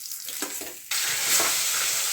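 Two koi fish drop into hot oil in a wok. The quiet stirring gives way abruptly to a loud, steady, close sizzle that fills the rest of the moment.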